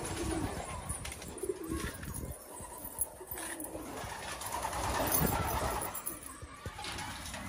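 Young pigeons in a coop coo softly amid faint rustling and shuffling, with low indistinct background noise and an occasional distant voice.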